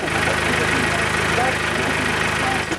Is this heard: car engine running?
yes